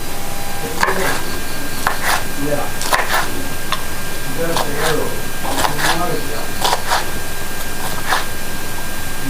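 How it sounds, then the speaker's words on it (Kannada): Hibiscus flowers chopped into small pieces on a board, a steady run of quick knife taps close by with a voice talking over them. "ಸ್ವಲ್ಪ ಸಣ್ಣ ಸಣ್ಣ ಚೆನ್ನಾಗಿ ಕಟ್ ಮಾಡಬೇಕು"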